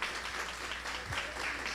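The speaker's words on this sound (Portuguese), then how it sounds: "salva de palmas para as irmãs" Church congregation clapping for the visiting sisters during a healing and deliverance service, a steady, dense burst of applause that fills the room throughout without letup.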